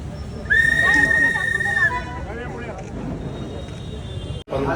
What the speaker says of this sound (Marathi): शिट्टी वाजवूनच ह्या स्वागताची तयारी होते आहे